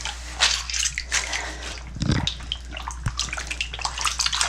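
A fabric waist trainer with clasps is rinsed by hand in a sink of dirty water, with sloshing, splashing and dripping in irregular bursts close up and a steady low hum underneath.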